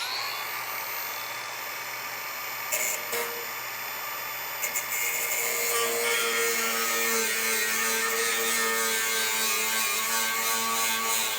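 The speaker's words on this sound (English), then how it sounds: "So I'm actually going to run the cutoff wheel through the corner one last time." An abrasive cutoff wheel slices through the rusty corner of a Ford Dentside truck bed quarter panel, a loud continuous grinding whine that keeps running and shifts pitch as the wheel bites into the sheet metal.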